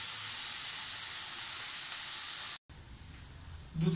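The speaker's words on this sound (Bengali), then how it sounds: "একটু ফ্রাই করব যাতে একটু নরম হয়ে যায় আলুগুলো" Potatoes frying in a pan to soften give a steady, close sizzling hiss that cuts out briefly, then returns softer with a low bubbling rise at the end.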